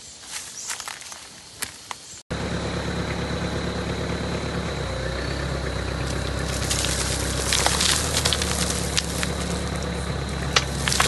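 After a short quieter stretch, a tractor engine idles nearby with a steady, continuous low rumble.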